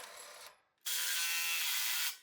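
Two bursts of a pneumatic impact wrench tightening a bolt while installing rock sliders on a 4Runner, a brief rattle then a longer sustained buzzing whir, loud and close with a short pause between.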